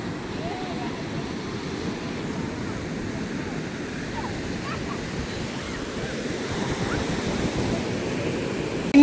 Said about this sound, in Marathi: लाटांवर लाटा येतात